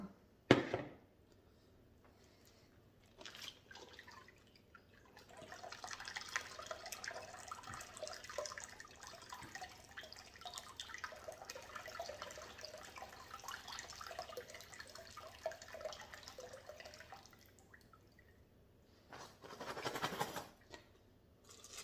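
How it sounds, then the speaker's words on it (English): Excess water poured out of a rock tumbler barrel holding stones between medium grit and pre-polish stages, a long quiet trickling splash with a short pour before and after, faint and alone. "I will dump out the extra water."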